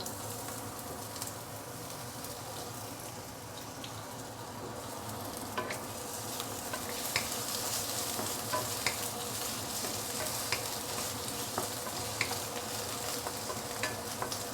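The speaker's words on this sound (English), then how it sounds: "I don't mind pan frying my potato a little bit, just to give it some enhanced flavor." Steady sizzling of potato frying in a pan, with soft crackles and occasional light stirring scrapes, close and fairly quiet.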